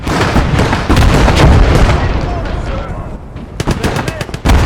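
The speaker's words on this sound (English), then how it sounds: "That's an MG." Bursts of machine gun fire amid artillery and explosions in the WWII strategy game Call to Arms: Gates of Hell, a dense, loud battle din with several sharp volleys toward the end.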